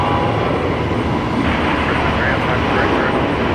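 An airplane taxis past at Brisbane Airport at night, a steady loud broadband engine roar with no break, heard outdoors from the airfield edge.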